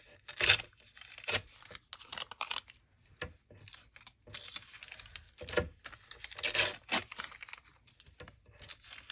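A strip of tracing paper is cut and handled up close, giving crisp rustling, crinkling and snipping in irregular bursts with short pauses, and no one talks.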